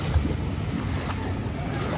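Floodwater washing across a submerged road in Jaffna, a steady broadband rush with wind buffeting the microphone, continuous and fairly close throughout.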